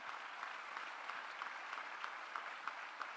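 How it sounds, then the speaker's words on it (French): An audience at a political meeting gives steady applause. The massed clapping is fairly distant and even, with a few sharper claps standing out and no talk over it. "on peut les applaudir"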